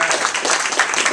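An audience gives a round of applause at a coaching talk on grit, a dense, steady patter of many hands clapping close by throughout.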